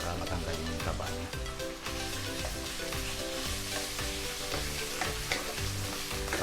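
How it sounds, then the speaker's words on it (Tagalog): Pork skin with its fat sautés in hot butter for adobong sitaw string beans, giving a loud, steady frying sizzle with stirring scrapes throughout and background music underneath. "Ngayon po natin igisa itong balat para matanggal yung taba niya."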